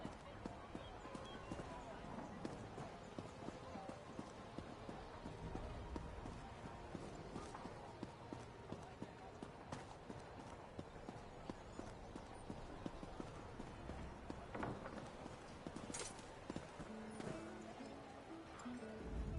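Horse hooves galloping in the Elder Scrolls Online video game, a steady clattering run of several mounts close by, continuous over ambient game sound with speech-like voices around.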